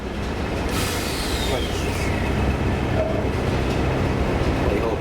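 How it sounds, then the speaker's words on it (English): Heritage railway diesel locomotive buffering up to the Queen Mary brake van, heard from aboard the van as a steady loud rumble of rail noise with a soft clank and faint squeal, under some background talk. "the diesel's buffered up to us now"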